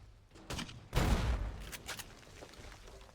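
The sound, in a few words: explosions in the video game Fallout New Vegas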